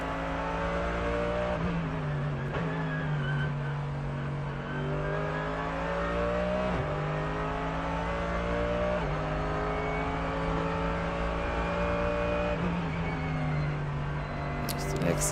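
V8 race car engine at the Nürburgring 24 Hours race, a loud, close engine note rising and falling through repeated revs and gear changes, with commentary running over it.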